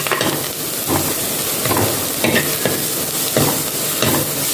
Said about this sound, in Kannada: ಹೀಗೆ ಒಳ್ಳೆ ಮಿಕ್ಸ್ ಮಾಡಿ ಟೊಮೆಟೊ ಎಲ್ಲ ಸ್ವಲ್ಪ ಸ್ಮೂತ್ ಆಗುವವರೆಗೆ ಒಳ್ಳೆ ಮಿಕ್ಸ್ ಮಾಡಿ